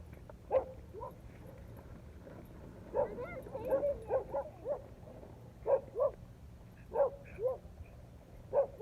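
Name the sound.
dog barking during leash training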